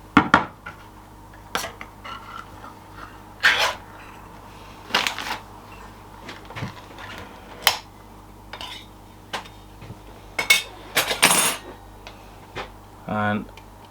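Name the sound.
opening a jar of pizza sauce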